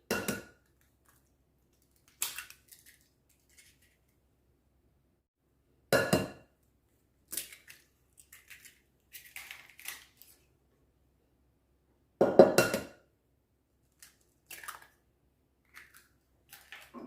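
Eggs for crepe batter being cracked into a bowl, with sharp isolated clinks and taps spread across a quiet kitchen, close by and without speech.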